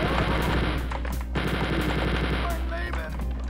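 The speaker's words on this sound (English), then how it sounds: "I think I want the chain gun for this room." Rapid automatic chain gun fire from Wolfenstein 3D on Death Incarnate difficulty, a continuous dense loud burst with no talking over it.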